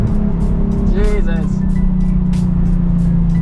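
A Nissan 350Z HR engine drones loud and steady inside a tunnel, its deep rumble filling the space while a voice briefly exclaims.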